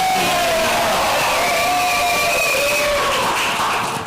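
A crowd at a live show cheers and whoops loudly, a dense continuous roar with shouting voices rising over it.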